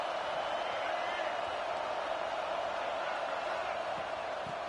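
Dense, steady roar of a large football stadium crowd at an NCAA college game, a continuous wall of cheering and murmur with no clear breaks.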